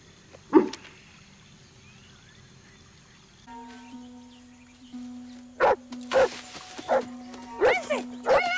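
Dog barking, from a television drama, with a single sharp bark early on, then a run of several louder barks and yelps near the end over a steady hum and music.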